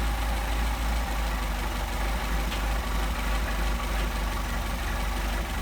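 A Mercedes 190SL with Solex carburettors idles at about 700 RPM, giving a steady, low, continuous engine rumble close by with an even level throughout and no talk.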